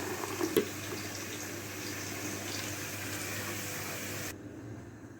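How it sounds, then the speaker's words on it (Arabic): Tomato juice pours into a pan of sauce for potato stuffed with chicken, a steady liquid rush and splash lasting about four seconds before cutting off, close and even. "هننزل بعصير القوطه."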